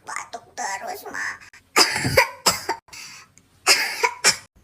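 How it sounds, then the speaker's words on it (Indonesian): A child coughs in several bursts at night, rough sharp hacks coming in clusters close to the microphone, with breathy voice sounds between them. "Batuk terus, Ma."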